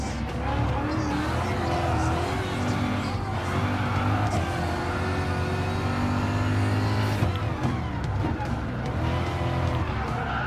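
A BMW M6 race car in Gran Turismo Sport at Circuit de Barcelona-Catalunya drones and revs loudly through shifting gears with tyre squeal, and a voice speaks over it.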